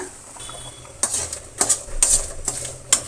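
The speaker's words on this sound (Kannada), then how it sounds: "ಇದಕ್ಕೆ ಒಂದು ಅರ್ಧ ಸ್ಪೂನಷ್ಟು ಆಯಿಲನ್ನು ಸೇರಿಸಿ ನಾವು ಫ್ರೈ ಮಾಡ್ಕೊಳ್ಳೋಣ" Leafy greens for a soppu bassaru fry in about half a spoon of oil in a pan. A faint background hiss sits under a few sharp, loud spoon-on-pan scrapes and clinks spaced about a second apart.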